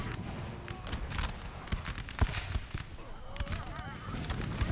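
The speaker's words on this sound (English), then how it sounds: "You just hear them loading up their guns. There they go." Line infantry in Napoleonic Total War 3 firing a ragged musket volley, a crackle of distant shots scattered across a busy battlefield din, with a voice talking faintly over it.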